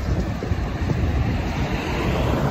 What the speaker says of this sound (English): This is the river I was telling you about.